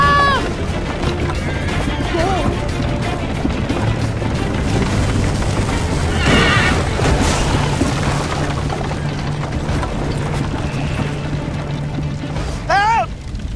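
A horse whinnies twice in Assassin's Creed Liberation amid a loud, busy game soundscape of rumbling and crashes, with voices shouting over it.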